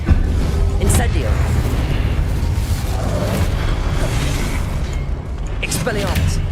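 The Incendio fire spell goes off in the video game Hogwarts Legacy as a loud, sustained whooshing roar of flame with bursts and rumbling booms, mixed with game sound effects throughout.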